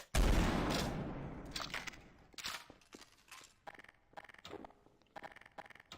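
Gunfight between Spiderman NPCs in Garry's Mod: a loud opening blast fading out, then scattered sharp shots and short bursts at irregular intervals, fairly close and without talk.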